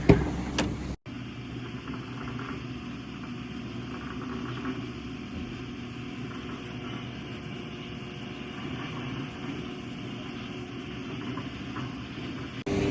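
An electric winch hauls a car back onto a recovery truck at night in Wales, with a steady, loud mechanical whir and drone that runs unbroken after a short pause near the start.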